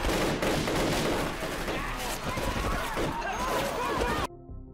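Rapid bursts of gunfire crackle loudly through a chaotic zombie-film battle scene, dense and sustained for about four seconds, with voices mixed in beneath before it cuts off abruptly.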